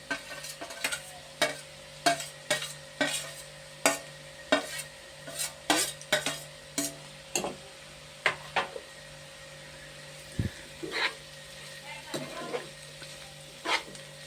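Chopped onions are stirred into a mixture in a pan, a utensil striking and scraping the pan in a quick, regular series of close clicks over faint sizzling, with brief pauses toward the end.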